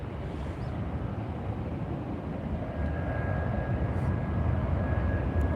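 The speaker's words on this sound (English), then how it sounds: "I believe we now have an easyJet 320 now inbound from Belfast, which is just appearing through the wall of fog at the end of the runway there" An easyJet Airbus A320 inbound from Belfast arrives at Edinburgh Airport through fog: a steady, continuous jet roar under a rushing, wind-like wash, growing slightly louder toward the end, with a faint tonal whine emerging.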